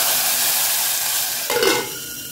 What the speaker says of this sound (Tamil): பாருங்கள், தாளிப்பு ரெடி ஆயிடுச்சு. ஊற்றிக்கலாம்.